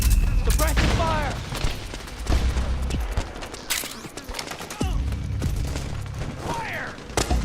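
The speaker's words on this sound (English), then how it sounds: "Suppressing fire!" Heavy gunfire in Metal Gear Solid 4: sustained bursts and scattered loud shots with booms and mechanical clatter, close and dense across the clip, while voices shout.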